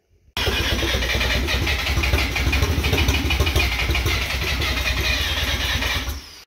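A rotary engine, rewired and reassembled with ignition timing still off, cranks and catches into a loud, rough, continuous run lasting several seconds with no talk over it.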